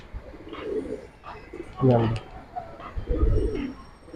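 Pigeons coo in soft, low bursts at close range, several times over a few seconds, with someone talking through the sounds; the birds include young and old fancy pigeons, some of them giribaaj tumbler types.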